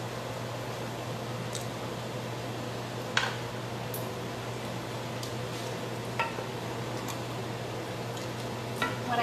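Chicken thighs fry skin down in a home kitchen pan with a soft, steady sizzle under a constant hum, broken by a few faint clicks.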